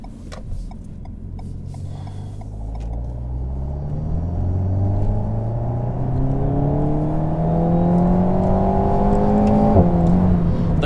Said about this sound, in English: The car picks up nicely in third gear. Turbo's very, very smooth.